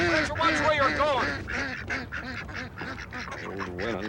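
Ducks honk and quack in a busy cluster nearby, several overlapping calls repeating rapidly in loud bursts, with some human voice mixed in.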